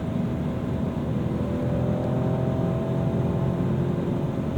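A 2025 Maserati Grecale Trofeo driving at speed, its engine a steady loud drone under road and wind rumble, with a gradual change in engine pitch during a slow, smooth downshift; no talking.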